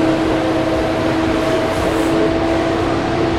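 Steady rumble inside a moving Greater Noida metro train, with a constant loud drone and faint tonal hum, close and uninterrupted with no talking.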